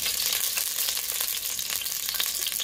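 Onion and garlic fry in a pan for a mole verde with hen, producing a dense, continuous, bright sizzle heard up close with no voices.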